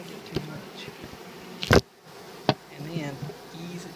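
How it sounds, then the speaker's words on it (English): Low, steady honeybee buzzing hums under quiet activity as bees are brushed into a hive, with a loud rustling scrape midway and a sharp knock shortly after as a bar is put in place. "Just brush the bees in like this."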